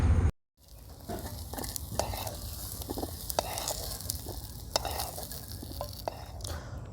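Onions fry and sizzle steadily in a kadai while being stirred, with scraping and clinking of the spoon against the pan, close and continuous with no talking.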